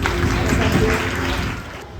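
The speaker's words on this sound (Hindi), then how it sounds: "एक बार जोरदार तालियों से सर का धन्यवाद" An indoor audience at an Arpita Global Foundation cultural program applauds with a short burst of dense clapping that fades out after about two seconds.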